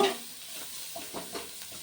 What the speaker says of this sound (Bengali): পেঁয়াজ আদা কাঁচা লঙ্কা খুব ভালো করে ফ্রাই করে নেব